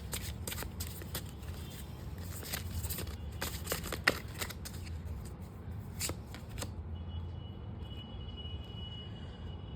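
Tarot guidance cards are shuffled in quick riffling bursts for about seven seconds, with a steady low room hum underneath. The shuffling then stops and only the quiet hum remains.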